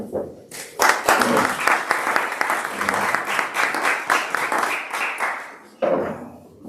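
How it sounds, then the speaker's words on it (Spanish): An audience bursts into sustained applause, dense clapping filling the room for several seconds before fading, with a brief renewed burst near the end. "Osvaldo Lorenzo, CEO de Uniquemia, y ahora un aplauso, si os parece."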